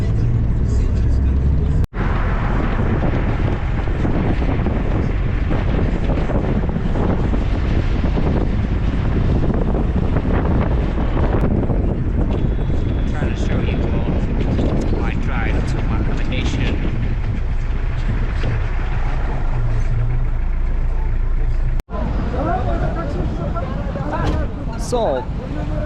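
Taxi ride through traffic in Addis Ababa, Ethiopia: a steady, loud rumble of road and engine noise with wind buffeting the microphone, continuous throughout, with brief dropouts.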